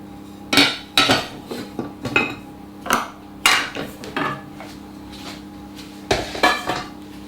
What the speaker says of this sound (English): Mix your bacon around as well.